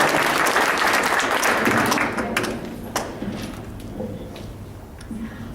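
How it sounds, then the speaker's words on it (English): Audience applause at a university poetry event, a dense burst of clapping that dies away to a few scattered claps and light thumps over several seconds. "So let's give a round of applause to Autumn."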